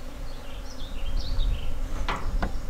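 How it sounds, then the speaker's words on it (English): Honeybees on an off-grid homestead drone close around a beekeeper in a steady, wavering hum, over a low rumbling background with a couple of brief higher whines passing near. "Got bees all over me."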